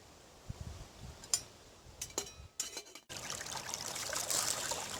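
Filtered water trickles from an MSR Squeeze water filter outdoors in windy conditions, with a few faint drips and splashes first, then a steady, quiet dribbling stream in the second half.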